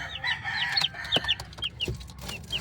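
Three-week-old backyard chicks chirp in a busy, overlapping flurry of high peeps, close and moderately loud, with scratchy movement beneath.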